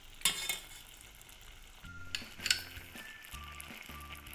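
Brown sugar being stirred into cooked tapioca pearls in a pot for homemade taho, soft scraping and clinking of a spoon against metal, quiet and intermittent with low hum in the background.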